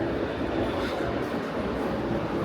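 A continuous heavy rumble of a New York subway train passing overhead, steady and loud throughout, with no voices.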